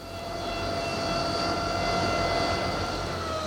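A Bristol Britannia turboprop airliner rolls in after touchdown, its engines giving a loud, steady roar with whining tonal hums that swell slightly and hold throughout.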